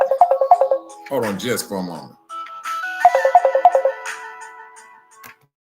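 A phone ringtone plays in short repeated bursts, loud and close, before a voice speaks over a pause, after which the ringing resumes in another run of quick tones.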